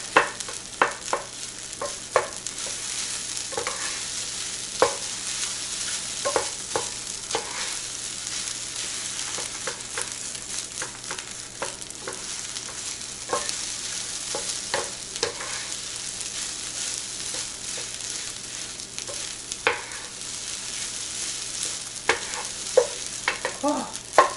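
Fried rice for omurice is stirred in a frying pan, a steady soft sizzle broken by frequent scraping and clacking strokes of the spatula, repeated irregularly throughout with no talking.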